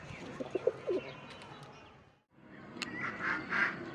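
Pigeons in a pigeon loft, including khaki and mili muslad-dom mujala birds, make scattered coos and soft calls, a short pause breaking them midway, with brighter calls returning close by afterward.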